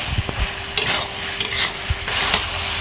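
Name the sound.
stirring potatoes with red chili powder in a pan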